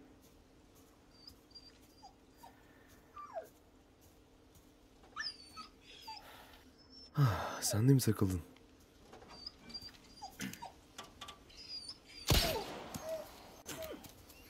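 A dog whimpers in Resident Evil 4 Remake, with faint high yelps and whines scattered across the scene, while someone talks over the game, with louder bursts of game noise in between.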